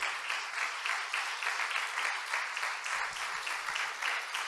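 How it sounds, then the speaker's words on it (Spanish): A church congregation bursts into sustained applause during a Spanish-language sermon, many hands clapping in a thick, even wash that pulses slightly, moderately distant and without speech on top. "Dale un aplauso a Cristo porque es para Él."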